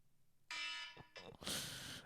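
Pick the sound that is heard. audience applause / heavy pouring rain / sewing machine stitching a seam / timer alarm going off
timer alarm going off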